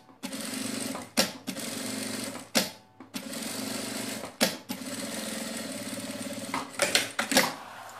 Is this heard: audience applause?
no